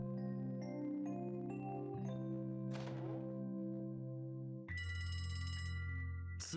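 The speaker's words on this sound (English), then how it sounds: "Phone call?" A phone rings in The Legend of Heroes: Trails from Zero, with repeated electronic ringing tones over soft background music, moderately quiet and steady.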